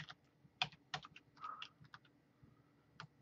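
Typing on a computer keyboard: a quick, irregular run of close, soft key clicks and taps, fairly quiet, with no voice.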